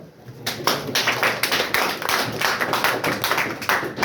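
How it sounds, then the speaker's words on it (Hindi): Students in a classroom clap together, a moderately loud burst of overlapping handclaps that starts after a brief pause and continues steadily to the end. "एक बार इनके लिए ताली बजाओ।"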